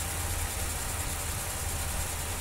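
A car engine idles steadily up close with a constant low hum and broadband noise, while under repair for a misfire and a check engine light by replacing the VCT cam timing sprocket.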